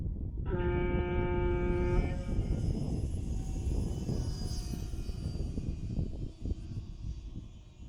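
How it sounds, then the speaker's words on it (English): An electric motor whines as an F5J model glider climbs during a world challenge competition in Trnava, with a steady multi-tone whine in the first couple of seconds over continuous loud, rushing, wind-like noise. "Someone turned off the motor very low."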